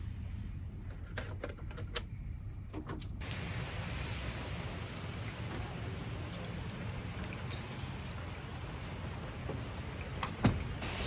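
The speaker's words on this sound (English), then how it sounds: "Still raining." Rain falls steadily as a soft, continuous hiss with scattered faint knocks and clicks, and one louder tap near the end.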